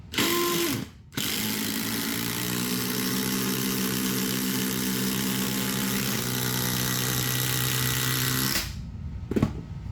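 Two impact drivers, a DeWalt XR and a Milwaukee Fuel, run in a drag race, giving a loud, steady mechanical whir with hammering rattle. It starts after a short burst, holds for about eight seconds, then cuts off.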